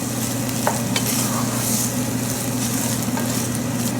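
A dish being stirred and mixed in a pan after lime juice is added, with steady scraping and soft sizzling throughout, continuous and close, with no talking.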